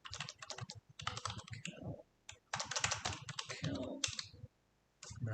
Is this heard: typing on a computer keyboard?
yes